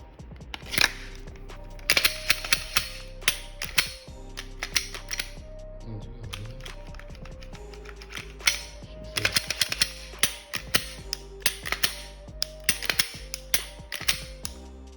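Sharp metallic clicks and clacks as a Glock pistol is reassembled after cleaning and lubrication, bursts of rapid slide and parts snaps in clusters with short pauses, close and loud.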